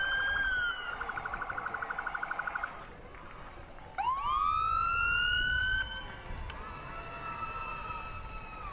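A volunteer fire department fire engine sounds its siren in a parade, loud and close: a pulsing yelp, then a sharp rising wail that holds and slowly fades, with crowd noise underneath.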